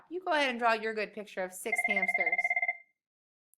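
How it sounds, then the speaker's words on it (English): A phone rings with a repeated electronic trill, a rapid run of pulses lasting about a second, right after a voice speaks in a quiet room. "Oh, that's my phone."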